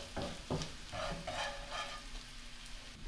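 Garlic sizzles and fries in a pan with a steady crackling hiss, punctuated by a few closer scraping stirs, heard up close without talking.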